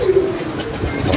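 Pigeons coo in a short, soft, throaty call, close by, with low background noise.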